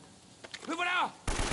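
Gunfire from the video game Uncharted: Drake's Fortune ends in a sharp, loud blast, just after a short voice-like cry and faint earlier thuds.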